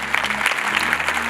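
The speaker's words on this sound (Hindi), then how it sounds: "जोरदार तालियां।" A church congregation claps hands loudly and continuously, a dense, steady burst of applause filling the room with no pauses.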